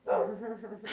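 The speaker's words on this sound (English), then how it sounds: "Sorry about the dogs, y'all." A single dog bark rings out close and fairly loud, a short tonal woof lasting about a second with a second yap starting at the end, heard on its own without talk.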